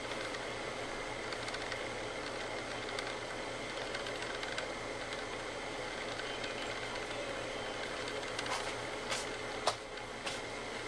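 Rival single-cup coffee maker brewing, a steady mechanical hum with faint clicks and a few sharper ticks near the end, close and continuous with no speech.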